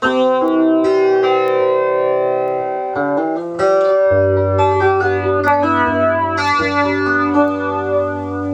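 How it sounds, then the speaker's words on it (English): Loud electric guitar notes and chords through an Ibanez FL-9 flanger pedal and amplifier, with a continuous sweeping, whooshing shimmer over the tone. "It sounds like there's some flanging."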